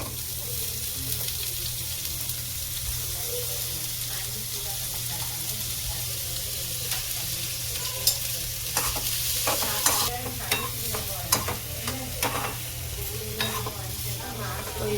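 Sautéing in a pan while making Hainanese chicken rice, a steady sizzle with scraping stirs and clinks growing busier toward the end, with a low hum and a voice speaking at times.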